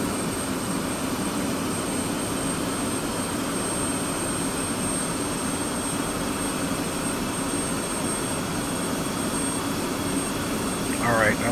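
F-16 or F-15 fighter jet engine in DCS World, a steady broadband roar with a high whine running at a constant level throughout during startup, with a brief rise near the end.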